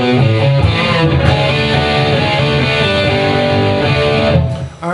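Electric guitar plays the chorus of a song, a steady, loud, distorted full-band sound that runs throughout with no talking over it.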